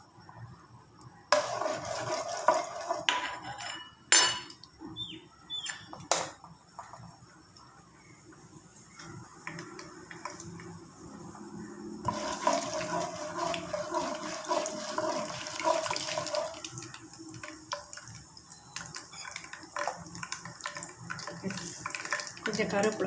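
Spices tempering in hot oil for a pomfret fish curry, a loud, hissing sizzle in bursts with some kitchen clatter, swelling into a steady spitting crackle.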